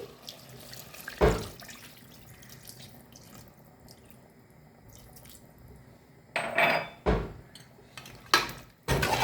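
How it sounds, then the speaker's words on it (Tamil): Water runs and splashes into a kitchen sink while cooking, with a few louder bursts of pouring and clattering dishes near the end. "தண்ணி ஊற்றி"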